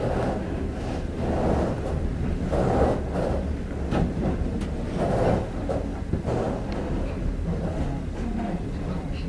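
An overnight sleeper train from Shijiazhuang pulls into Shanghai railway station with a steady, loud rolling rumble and low wheel noise. The rumble swells and eases in waves, with faint wind buffeting and no clear talk.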